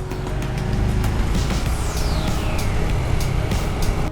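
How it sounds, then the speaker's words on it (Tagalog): Road traffic near a road construction site roars past a rider on a Yamaha PG-1 motorcycle, forming a dense, continuous rumble of engines and wind that stays loud and steady throughout, with no talk. "Traffic, traffic."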